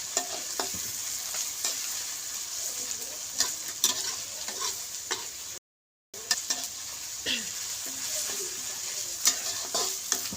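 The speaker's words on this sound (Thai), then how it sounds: "ผัดเครื่องให้หอมก่อน" Thai curry paste stir-fried for a spicy catfish stir-fry with young green peppercorns, a steady close sizzle broken by repeated scrapes and clacks of a spatula against the pan, with one brief silent gap midway.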